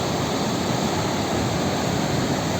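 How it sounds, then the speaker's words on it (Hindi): Fast-flowing river water along the Gangotri-Gaumukh mountain trek, a steady, loud broadband rush with no breaks, close by and alone without any voices. "पानी का प्रवाह बहुत तेज़ है।"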